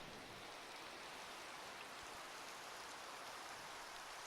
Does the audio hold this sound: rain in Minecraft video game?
yes